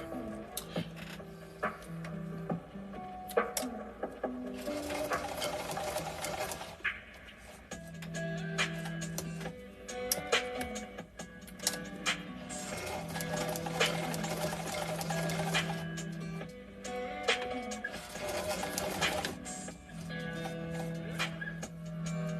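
A sewing machine runs in repeated whirring bursts with brief pauses, its stitching motor humming close and steady during a sew-along session.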